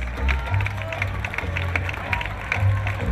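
A marathon crowd claps steadily throughout, dense and continuous, with a voice speaking over it and some cheering mixed in.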